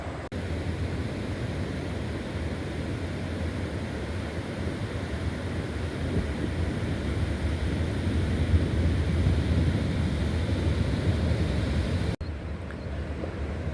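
Steady surf washing onto a beach, a continuous broadband roar with some wind buffeting the microphone, holding at an even level throughout with a brief knock near the end.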